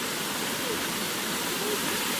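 The Fiji waterfall at Sekumpul in Bali roars as a steady, dense wash of falling water, unbroken and close for the whole stretch.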